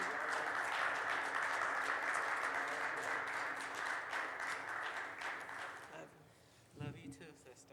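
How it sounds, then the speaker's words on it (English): Steady applause from the audience at a Black Nonbelievers tenth-anniversary closing session, a broad wash of clapping that carries for several seconds, then dies away as a voice begins speaking. "So can we give a round of applause, another one for Mandisa and Black Nonbelievers?"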